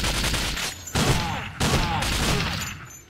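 Frenesi Auto 12 full-auto 12-gauge shotgun blasting in Nightfire, three heavy booming bursts in quick succession, loud and close, each with a brief ringing tail.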